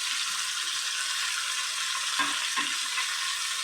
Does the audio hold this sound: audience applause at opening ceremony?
no